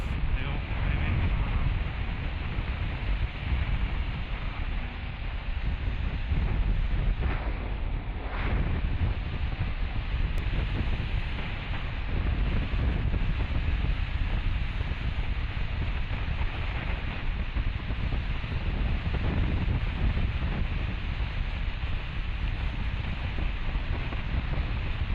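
Steady, buffeting wind roar rushes past a rider on a Suzuki GSX-8S motorcycle on a chilly day, a dense, continuous broadband noise that stays loud throughout.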